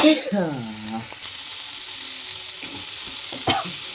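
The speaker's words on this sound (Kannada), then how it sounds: "ಇವಾಗ ಉಳ್ಳಾಗಡ್ಡೆ ಸ್ವಲ್ಪ ತಿರುಗಬೇಕು, ಮಿಕ್ಸ್ ಮಾಡಿ ಕೆಂಪಗಾಗಿದೆ" Onions and tomato sizzle in a pan while being stirred, a steady close frying hiss with scraping stir strokes, one louder clatter near the end; a voice is briefly heard at the start.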